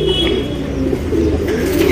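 A pigeon kept by a breeder coos in soft, rolling, warbling phrases close by, steady and continuous over a low background hum, with no one speaking.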